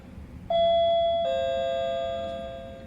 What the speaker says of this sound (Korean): 203호의 초인종부터 눌렀다